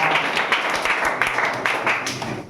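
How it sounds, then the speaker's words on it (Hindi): Boys in a classroom clapping their hands, a quick run of sharp claps in bursts over a couple of seconds, with voices in the room. "लड़के मारिए ताली"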